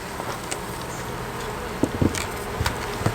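Honey bees buzzing around a hive while supers are being added, a steady close insect drone with occasional louder passes and faint handling knocks.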